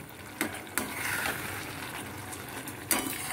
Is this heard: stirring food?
yes